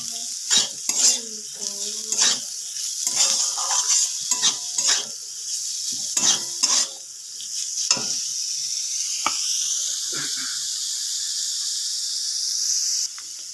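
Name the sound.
chopped onions frying in a pan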